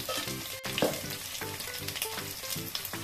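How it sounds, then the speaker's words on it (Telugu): Ginger garlic paste with ghee frying in a pan, a steady close sizzle with crackling spatters and scraping stirs throughout, no talking. "ఫ్రై అయిందండి అల్లం వెల్లుల్లి పేస్ట్. ఇప్పుడు కొంచెం నెయ్యి వేస్తున్నా"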